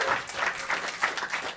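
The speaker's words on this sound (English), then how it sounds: "Guys, put your hands together for Dan Wickes" An audience at a New York roast battle comedy show applauds comedian Dan Wickes: a dense, steady wash of clapping that rises and falls slightly, close and lively, with no talking over it.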